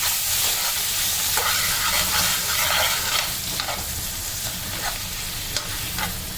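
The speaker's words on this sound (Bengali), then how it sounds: "এবার কড়াইয়ে পরিমাণ মতো বাটার দিয়ে দেব। তার সঙ্গে দিয়ে দিলাম টমেটোগুলো।" Tomatoes fry in butter in a kadai, a loud steady sizzle with scraping stirring strokes throughout, close and without speech.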